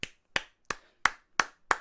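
A single person clapping six times in a steady, evenly spaced rhythm, each clap sharp, close and isolated against silence.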